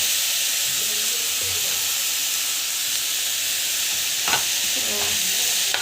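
Salted onions sautéing in a pan for tomato thokku make a loud, continuous hiss and sizzle, with occasional stirring scrapes near the end and no talking.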